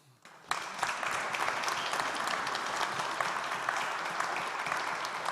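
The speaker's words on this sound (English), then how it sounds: "huge applause to our panelists" Audience at a European remembrance symposium applauds its panelists after a debate, a steady wash of clapping that starts abruptly and holds evenly, moderately distant in a hall.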